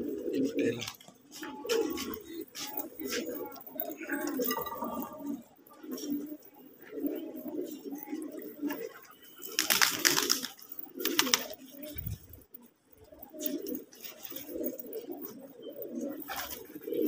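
Pigeons coo in low, throaty repeated phrases, close by, with occasional wing flutters and someone talking over them.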